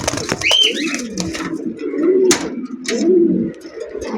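Pigeons at a wholesale pigeon market, with several soft cooing calls rolling out close by, one after another, and a few sharp noises from the market among them.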